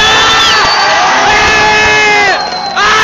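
Crowd at a family day out by Lake Coatepeque cheering and whooping for a couple, loud overlapping shouts and high excited voices close by, with little distinct clapping.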